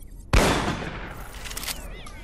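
A shotgun fires once in Killing Floor: Incursion, a sharp loud blast that rings off into a fading tail with faint mechanical clatter after it.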